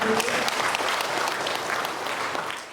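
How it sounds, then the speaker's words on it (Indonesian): Applause from attendees at a formal Perhutani and BPJS ceremony, a continuous even crackle of many hands clapping, moderately distant and steady for the whole stretch. "Boleh tepuk tangan yang mulia."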